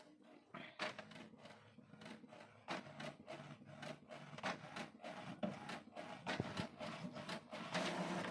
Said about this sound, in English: This is automatic printing. You're testing printing new Deskjet.